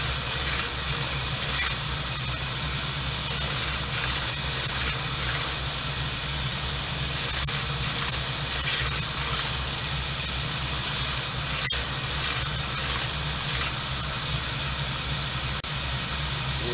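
A vintage axe head edge is honed by hand, with repeated rhythmic rasping strokes of stone on steel in regular bursts over a steady background hum, close and fairly loud.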